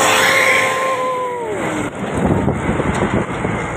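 An intercity PMH bus passes close by on a roadside, its engine and tire roar swelling and fading with a falling horn-like tone early on, wind noise buffeting the microphone throughout.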